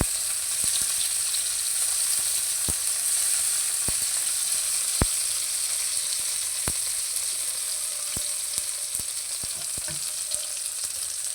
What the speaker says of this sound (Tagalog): Ngayon, ilalagay na natin ang ating sibuyas. Yan, imimix lang natin.